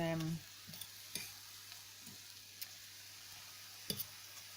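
A spoon stirs beetroot stalk pasta around a pan, making a faint sizzle broken by occasional light scrapes and clicks, after a brief low hum at the very start.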